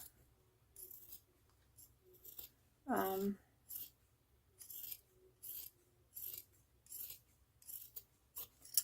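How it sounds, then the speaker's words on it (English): Scissors clipping and trimming fabric for a book sleeve, a rapid series of short, crisp snips up close, with one louder scrape partway through. "I'm just gonna clip that a little bit, just anywhere that I can reduce some bulk inside of my sleeve."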